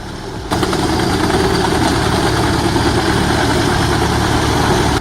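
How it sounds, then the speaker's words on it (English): A Peterson 1400 wood grinder powered by an 800-horsepower Caterpillar C18 diesel engine runs steadily, a loud, dense mechanical roar with constant vibration that holds at full level after a brief quieter start. "The Petzolato PTH 1400 wood grinder, driven by a Caterpillar C18 engine with 800 horsepower, delivers exceptional wood grinding performance"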